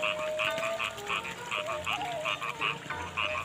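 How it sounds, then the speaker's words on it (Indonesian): Frogs croak in a village countryside in the morning, a steady chorus of rhythmic, pulsing calls repeating in quick bursts at moderate distance, with a faint continuous hum of other rural background sound beneath. "Nah, kawan-kawan, terdengar gak suara kodok?"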